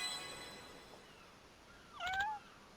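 A single short cat meow from the video game Pirate Yakuza in Hawaii sounds faintly near the end, rising then falling, over a quiet background of soft game ambience.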